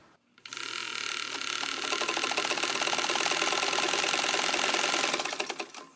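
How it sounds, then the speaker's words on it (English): A sewing machine with a quarter-inch guide foot stitches a straight quilting seam, running at a steady, fast mechanical hum that fills about five seconds close up before stopping. "So I'm going to line this up like that and just sew my straight seam."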